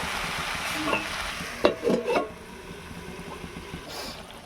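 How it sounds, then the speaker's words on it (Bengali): Fish head and cabbage curry stir-frying in a pan, a soft steady sizzle with a few sharp clinks and scrapes of a spatula in the middle, close and quiet with no talk. "বাকি মাছের মাথাটা আমি এর মধ্যে দিয়ে দিলাম, দিয়ে ভালোভাবে এটার সাথে মিশিয়ে আমি কষে নেবো"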